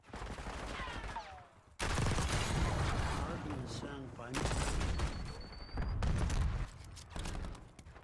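In a first-person shooter video game, a thrown frag grenade bursts amid heavy rapid gunfire and booming blasts, loud and close, with bursts of combat din cutting in and out and game voices over it.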